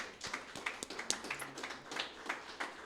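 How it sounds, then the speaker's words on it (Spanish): Faint, scattered clapping from a church congregation, individual claps audible as uneven taps rather than a dense roar, quiet and somewhat distant. "Un aplauso para los hijos del Señor."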